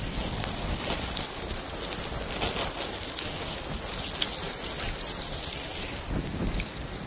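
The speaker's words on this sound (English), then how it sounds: "Just going to give you a lot of water." Water pours and splashes across a freshly laid concrete paver path in a steady, rushing wash that stays fairly loud and even throughout, with no voices.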